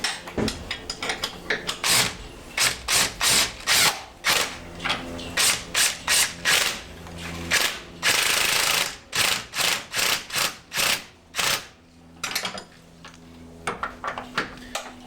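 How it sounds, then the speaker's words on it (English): A ratchet tightens bolts on a lowered Jeep YJ, its rapid pawl clicking in repeated bursts of cranking with brief pauses, close and loud, with some metallic clinks between strokes. "And now we're just gonna tighten them up."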